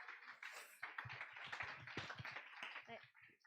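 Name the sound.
congregation clapping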